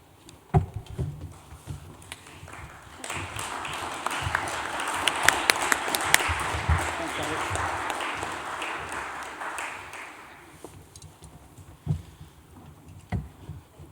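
An audience at a full city council meeting in Cambridge, held in May 2021, gives a sustained round of applause as the new mayor appears. Steady clapping swells in the middle and fades away over about fourteen seconds, with some sharper individual claps near the end.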